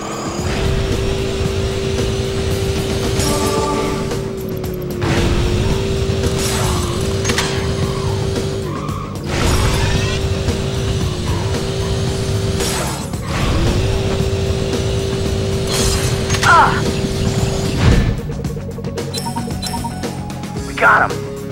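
Racing cars in the video game Jak X crash and skid, with a steady engine drone cut by bursts of broadband scraping and tire noise, while a voice talks over the action.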